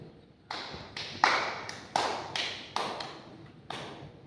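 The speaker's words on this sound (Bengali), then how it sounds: "ক্যামেরা হাততালি দিতে দিতে ঢুকবো।" Hands clap one at a time at uneven intervals on a Bengali film set, about eight sharp, close claps standing out over a quiet background.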